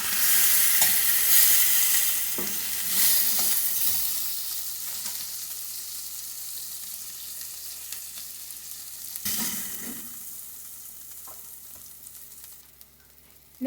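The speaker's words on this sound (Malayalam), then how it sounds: "രണ്ടാമത്തെ ബാച്ചും ഓൾമോസ്റ്റ് ഫ്രൈ ആയിട്ടുണ്ട്" Chicken pieces, a second batch, frying in hot oil in a pan give a steady close sizzle throughout, with brief bursts of stirring and scraping and no voices.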